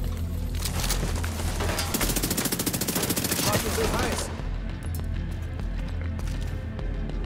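Rapid automatic gunfire in The Division 2 Warlords of New York, a fast rattling burst of loud shots lasting several seconds, then giving way to a lower steady ambient rumble with faint clicks.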